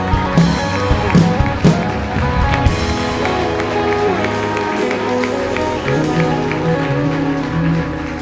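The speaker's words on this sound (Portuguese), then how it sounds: "Aplauda ao Senhor com o melhor que você tiver." A church congregation applauding during a service, a sustained loud wash of clapping and crowd noise with a few sharper hits at the start, music tones running underneath.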